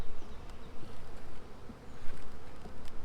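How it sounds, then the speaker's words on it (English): Honey bees buzz inside a hive box on a winter day, a dense, close hum that swells and dips with no voices over it. "So these bees are on this side of the box"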